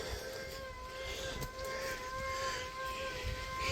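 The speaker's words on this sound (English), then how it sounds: "You can hear that wire winder squealing over there maybe." An electric fence wire winder squeals with a steady, thin whine running through the whole stretch, set outdoors on a farm with a low background rumble and no talk.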